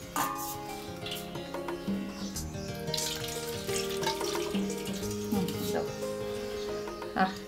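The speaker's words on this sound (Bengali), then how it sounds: "দাঁড়ো দাঁড়ো, হাত ধুয়ে নি" Running tap water splashes steadily over hands being washed in a kitchen sink, a continuous close hiss and patter lasting several seconds with faint background sounds.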